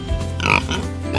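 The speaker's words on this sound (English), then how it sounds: "Pigs go oink oink." A pig gives a short, loud, close oinking grunt, a single brief call of about a second.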